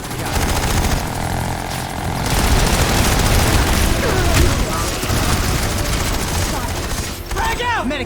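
War video game battle with a continuous wash of gunfire, a deep boom suggesting a grenade blast, and rumbling vehicle or aircraft noise throughout, with shouting voices mixed in.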